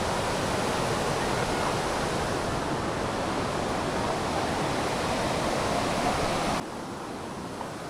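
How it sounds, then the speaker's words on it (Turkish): A stream flows past a boxwood forest as a dense, even rush of water, loud and close, that holds steady for several seconds before suddenly dropping to a quieter hiss near the end. "Şimşir ormanlarının yanında da böyle bir güzel bir dere akıyor."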